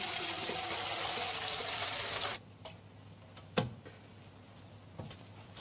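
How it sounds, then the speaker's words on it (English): Water pours steadily into a large glass for about two seconds and then cuts off. A few faint clicks and taps of glass follow in a quiet room. "Fill it with water."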